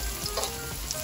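Garlic sizzles and crackles steadily in hot oil in a pan while cooking for bihon, with faint stirring scrapes and no talking.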